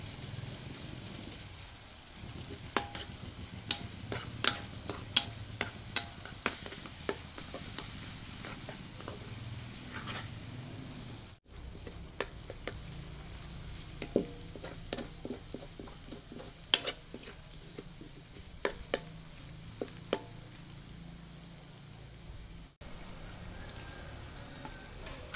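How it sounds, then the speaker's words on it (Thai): Chili and shallots stir-fry in a pan, a low continuous sizzle punctuated by frequent scraping and tapping from a spatula in an irregular rhythm, fairly quiet and without talk. "ผัดจนหอมนะคะ"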